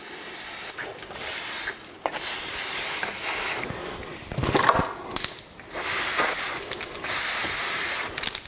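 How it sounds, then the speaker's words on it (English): A WD-40-style lubricant sprayed in several bursts of loud, close hissing separated by short pauses, during a mechanical repair job after brake cleaner has been used. "Now we use the equivalent to WD-40."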